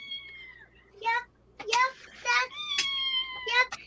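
A small kitten meows several times in short, high, clear cries spread across the moment, up close, with a person talking softly in between.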